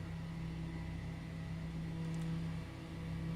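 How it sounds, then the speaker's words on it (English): Inertia starter energizer on a DC-3 in Microsoft Flight Simulator spinning up, a steady rising whine and hum over the droning cockpit with no voices. "We hear the energizer come up."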